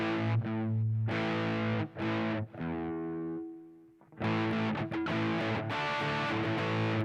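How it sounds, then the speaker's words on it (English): An electric guitar with a distorted 80s or 90s rock tone plays thick, sustained power chords and a few muted-string chops, loud and alone, with a brief decaying pause midway. "distorted 80s or I guess an 80s or 90s rock sound"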